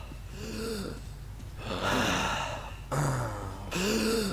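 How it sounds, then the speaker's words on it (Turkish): A character in Metro 2033 gasping for breath without a gas mask, with several labored, rasping inhales and exhales in a steady rhythm, close and fairly loud. "Nefes alamamaya başladık."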